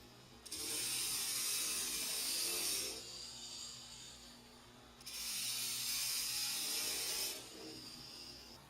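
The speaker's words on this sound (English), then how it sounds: "this same misalignment causes rubbing between one of the fingers on the gripper and the screw" A robot gripper finger rubs against a misaligned screw while turning it. It makes a harsh scraping hiss in two long bursts of about two seconds each, close and steady, with a quieter mechanical hum between them.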